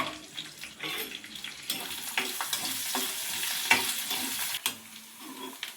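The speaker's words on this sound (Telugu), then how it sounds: "ఉల్లిపాయలు బాగా వేగాయి" Onions and green chilies frying in hot oil, a steady close sizzle with scattered stirring scrapes and clinks throughout, no voices.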